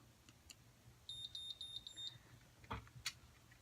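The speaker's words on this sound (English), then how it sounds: "I hear little beeps." A Conair Curl Secret hair curler giving a quick run of about eight small, high-pitched beeps at an even pace, faint and close, with a few soft handling clicks around them.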